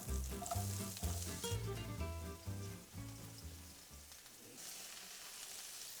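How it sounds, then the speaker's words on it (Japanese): Zucchini fries in oil in a pan over medium-low heat for ratatouille, a steady soft sizzle running beneath melodic background music that fades out partway, leaving the quiet hiss alone. "もう大さじ1杯また足して、今度はズッキーニも炒めていきます。"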